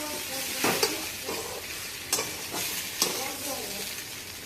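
Fried pointed gourd and potato pieces are stirred in a sizzling pan, a steady frying hiss with several scraping stirs of a spatula, close and fairly loud, with no talking.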